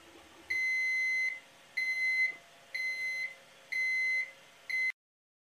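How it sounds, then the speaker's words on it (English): Ortur Laser Master 2 Pro laser engraver buzzer sounding its flame-sensor alarm: five steady electronic beeps in an even, repeating rhythm, each lasting under a second, loud and close with no talk. "A buzzer emits an alarm tone if the built-in flame sensor is triggered."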